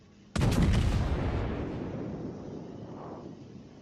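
A single heavy naval gun salvo from a battleship in World of Warships booms out suddenly after a quiet moment, then rumbles and fades slowly over several seconds, with no talk.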